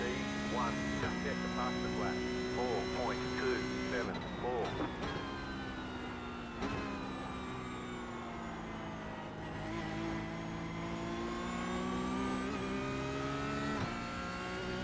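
Porsche Cup race car engine in the iRacing simulator at Sebring, a loud continuous whine that rises and falls through gear changes and throttle lifts, heard alone without talk.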